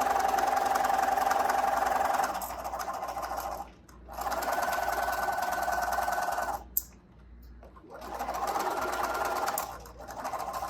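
A sewing machine stitches a fabric mask, running forward and then backstitching in three loud, buzzing bursts, each separated by a short pause and a faint click.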